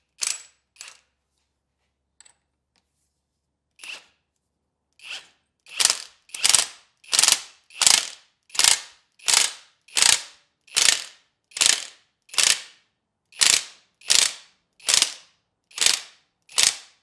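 Ratchet clicking as a castle nut is tightened on a Dana 18 transfer case, a few scattered clicks first and then a steady rapid run of loud close ratcheting strokes, with no talking.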